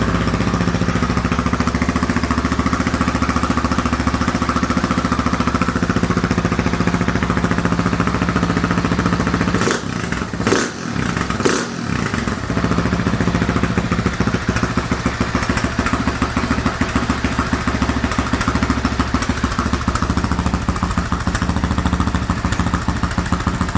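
A loud, rough KTM 690 Enduro R motorcycle engine with a modified Dominator exhaust runs continuously with a harsh, throaty sound, briefly stuttering midway before settling back into a steady idle.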